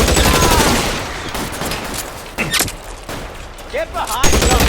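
Gunfire from the video game L.A. Noire, rapid bursts of shots and automatic fire in a firefight, with a character's voice speaking between the volleys.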